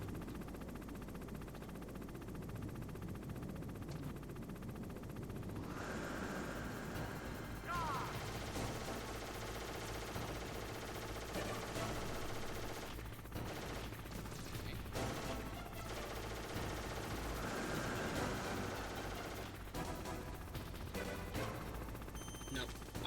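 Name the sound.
Hind D helicopter gunfire in the video game Metal Gear Solid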